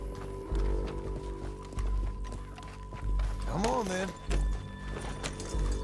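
Horse hooves galloping in Red Dead Redemption 2 as a rider sets off across a canyon, a steady rhythmic clip-clop pounding under a man's spoken lines, with a brief horse whinny midway.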